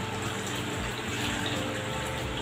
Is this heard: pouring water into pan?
yes